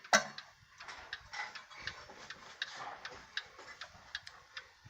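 An 1881 Ansonia mantel clock with a heavy black cast-iron case, brass door, open escapement and stamped movement ticks in a steady, even rhythm, quiet and close, with no voices.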